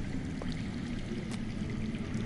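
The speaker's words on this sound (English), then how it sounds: "That's water. I hear water. From underground." Underground water flows in the Game of Thrones Telltale video game, a steady, even rushing wash with a low rumble, heard continuously with no voices.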